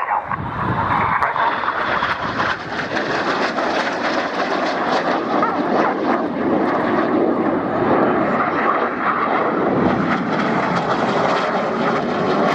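Red Arrows BAE Hawk jets of the synchro pair roar overhead during a flying display at RIAT 2014, a loud, continuous, broadband jet engine rush that holds steady for the full stretch with no voices over it.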